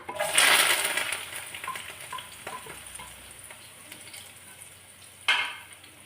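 Shallots, ginger and green chilies go into hot oil after mustard seeds, setting off a loud burst of sizzling that slowly fades to a softer crackle, then flares sharply again near the end.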